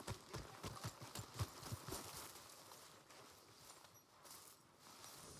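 Horse hooves clopping at a walk in Red Dead Redemption 2, a run of soft, fairly close thuds in the first two seconds that thin out and fade under quiet ambience.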